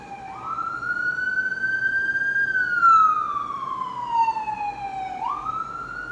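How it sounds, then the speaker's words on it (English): An emergency siren wails steadily, rising and falling in pitch as it sweeps up and down, loud and fairly close with traffic rumble underneath. "Hold on, because these sirens,"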